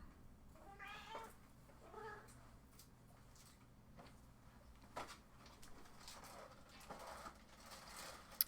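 A female cat meows a few times near the start, soft and nearby, over faint room noise with scattered light clicks and knocks.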